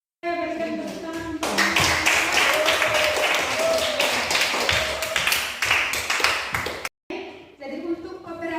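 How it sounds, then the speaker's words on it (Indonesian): A classroom of students breaks into a burst of brisk, rhythmic hand clapping lasting several seconds, fairly close, with a short pause before it trails off. "saya berikan tepuk tangan"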